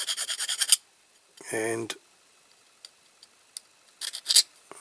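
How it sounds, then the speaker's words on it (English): Metal file rasping a small die-cast part smooth during a Corgi Ghia L6.4 model car restoration, a few short scraping strokes in bursts separated by quiet pauses, close, with a brief spoken word. "I think I might just file that smooth here"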